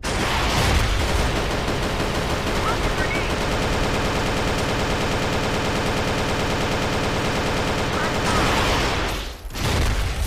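Rapid continuous gunfire in the shooting video game CrossFire, a dense unbroken stream of shots lasting several seconds, loud and close, with a brief dip near the end.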